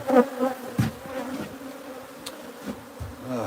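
Bees from a wild beehive being moved to a new home buzz close by, a dense droning hum with individual insects flaring louder as they pass, and no voices.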